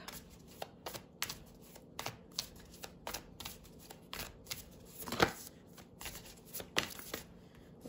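A Moonology oracle card deck being shuffled by hand, a series of quick riffling and slapping bursts in an uneven rhythm, close and fairly quiet with no speech.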